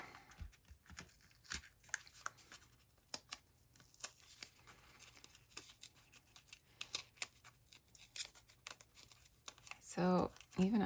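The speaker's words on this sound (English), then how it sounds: "I'm just pulling off all the gems on this one" Gems being pulled off a sweater: quiet, close, irregular snaps, ticks and crinkly tugs, scattered across the stretch, with a louder rustling burst near the end.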